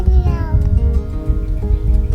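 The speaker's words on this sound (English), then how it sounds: "It's a cat, is it?" A cat meows a few times against a busy, low background of people and movement, with children and adults talking nearby at a historic castle site.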